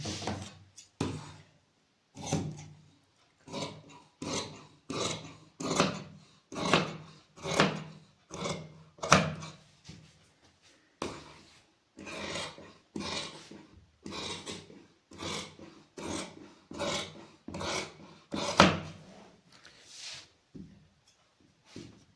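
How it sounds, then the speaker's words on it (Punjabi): Scissors cut through velvet suit fabric in a steady run of close, crisp snips, each a short crunching chop in an even rhythm, with a few brief pauses between cuts and no talking. "ਹੁਣ ਆਪਾਂ ਇਹਦੀ ਕਟਿੰਗ ਕਰ ਦੇਣੀ ਹੈਗੀ"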